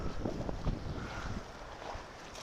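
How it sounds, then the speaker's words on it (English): Strong desert wind in Quartzsite, Arizona roars steadily and buffets the microphone, producing a continuous heavy rumble with no voices. "it's really, really getting windy now"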